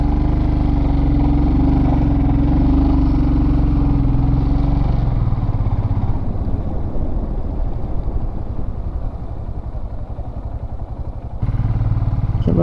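A motorcycle engine runs loud and close near a Durga temple gate in Assam, first with a steady low drone, then with a rougher, clattering idle before parking.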